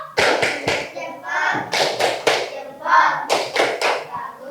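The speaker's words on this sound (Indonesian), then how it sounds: "Tepuk jempol." A class of children performs a thumbs-up clapping cheer, sharp rhythmic hand claps and thumps in quick bursts, loud and close, with bits of voices chanting along between the claps.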